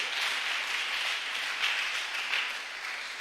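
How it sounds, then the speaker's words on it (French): A church congregation applauds during a Sunday service, steady dense clapping with slight swells throughout and no speech. "Acclame un peu pour toi-même."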